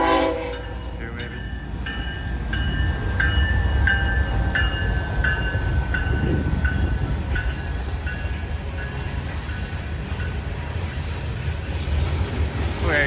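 A freight train rolls past near a BNSF connection in Indiana, its horn sounding in repeated steady blasts over a continuous loud rumble of wheels and engine throughout.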